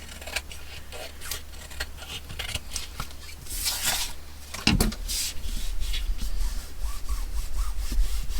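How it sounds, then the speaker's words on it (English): A hand rubs and smooths down a paper patch on a junk journal page, producing soft, irregular scraping and brushing strokes close up, with a few sharper rubs midway. "Just give it a little smoothing. Smooth down my little patch."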